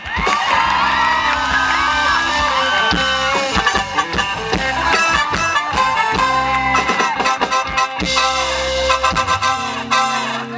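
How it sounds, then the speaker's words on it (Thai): A concert crowd at an outdoor love-song show applauds and cheers with whoops and shouts, loud and continuous, blended with music throughout. "เอาเสียงปรบมือเแอลแบบหน่อยค่ะ"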